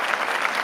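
A brief, steady burst of applause plays on a podcast, a dense clapping wash lasting under a second.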